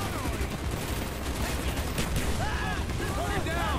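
Continuous gunfire from a weapon in Call of Duty: Black Ops, rapid shots layered over dense battle noise and a droning engine, steady and loud throughout.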